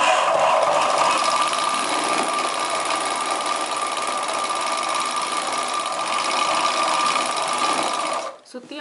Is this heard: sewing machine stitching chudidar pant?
yes